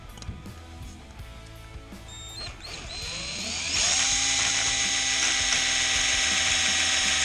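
A small power drill whines into the metal of a 1970 25hp outboard motor, rising in pitch and growing steadily louder as it bites, with faint mechanical clicking early on.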